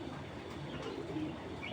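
Low, steady cooing of a racing pigeon hen of a grizzle pair, soft and continuous throughout, with no talking.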